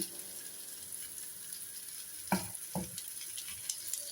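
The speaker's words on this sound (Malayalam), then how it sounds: "നമ്മുടെ മീൻ വറുത്തതൊക്കെ ഇവിടെ നന്നായിട്ട് മുരിഞ്ഞിട്ടുണ്ട്. ഒന്നും കൂടെ ഞാനൊന്ന് മറിച്ചിട്ട് നോക്കുകയാണ്" Fish frying in a pan on a stove gives a steady soft sizzle, broken around the middle by two short scraping clatters as the pieces are turned over.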